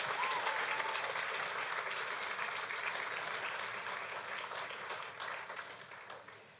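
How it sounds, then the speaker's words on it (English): Sustained audience applause for the finalists at a university speech showcase, steady and dense throughout before gradually thinning toward the end. "let's give them all another round of applause for their excellent work"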